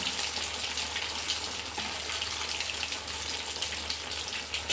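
Rice vadas deep frying in hot oil make a loud, dense, continuous bubbling hiss that stays constant throughout, with no talking.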